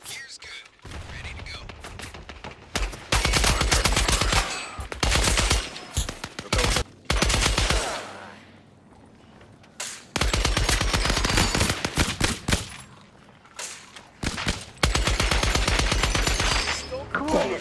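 Automatic gunfire crackles through a Scavengers battle royale match in long repeated bursts separated by brief lulls, loud and close, with a player speaking quietly between the volleys.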